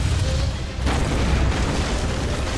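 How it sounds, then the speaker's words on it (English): Loud explosion in the video game EDF Iron Rain, a dense sustained boom with a sharp swell partway through, filling the whole stretch without a break. "Not sure why that exploded"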